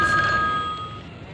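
A telephone rings in the horror game Babysitter Bloodbath, a loud, bright electronic trill that fades out after a single ring.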